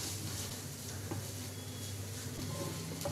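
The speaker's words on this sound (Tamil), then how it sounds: "இந்த மாதிரி மூடியை திறந்து வதக்கி விட்டுட்டே இருங்க" Beetroot poriyal is stirred in an open pan, a quiet, steady sizzle with soft scraping from the spoon and a low background hum, faint but continuous.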